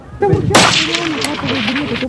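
A sniper rifle shot fired from a car during a sniper-pair ambush exercise, a sharp loud crack followed by a ringing tail, with someone talking before and after the shot.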